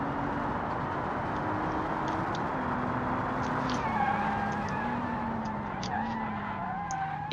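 A car skids under braking in the racing game Automation, a sustained tyre squeal with wavering pitch that runs loud and steady from start to finish, over continuous engine noise.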